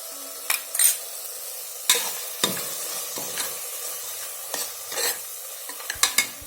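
Shallots sizzle steadily in a hot pan while a spoon scrapes and stirs in irregular strokes, close and fairly quiet, with no talking.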